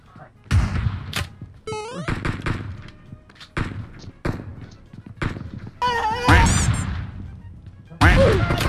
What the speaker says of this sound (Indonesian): Waduh, ada yang nembak dari belakang tuh.